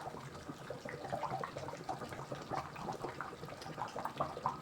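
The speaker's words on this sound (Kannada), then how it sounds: "ನೋಡಿ ಚೆನ್ನಾಗಿ ಕುದೀತಾ ಇದೆ" Bangude (mackerel) fish curry boiling in a pot, a close bubbling and popping of simmering liquid with irregular soft bursts throughout.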